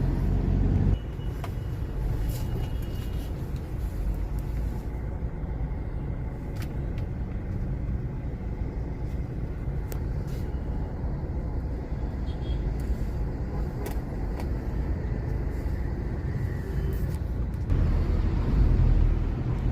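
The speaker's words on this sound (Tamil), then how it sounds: "ஏர்போர்ட்லேருந்து ஒரு மணி நேரம் ஆச்சு ஒரு கிலோமீட்டர் தான் நம்ம ஓடிருக்கு வண்டி அவ்வளோ டிராஃபிக் ஜாம்" A low, steady rumble of engines and tyres fills the air during a slow traffic jam on the road from Mumbai airport, heard continuously from inside a vehicle.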